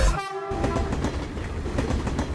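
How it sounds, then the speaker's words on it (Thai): An electric train pulls in within the Roblox game Grow a Garden, a horn-like tone over rumbling rail clatter, steady and fairly loud, with no talk. "รถไฟฟ้ามาแล้วเธอ"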